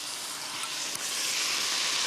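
Mushrooms stir-frying in a hot wok, giving a steady, loud, broadband sizzle that holds continuously throughout with a slight stirring scrape near the middle.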